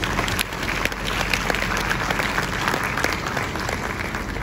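Sustained audience applause at an event, a dense crowd clapping steadily and loudly throughout with no pauses, a few sharper individual claps poking through the wash.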